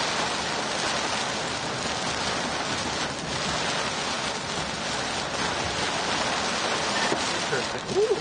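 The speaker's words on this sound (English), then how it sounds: "Ooh, hail!" Rain and hail falling during a tornado storm, a dense, steady hiss of pouring rain with faint scattered impacts, loud and continuous throughout.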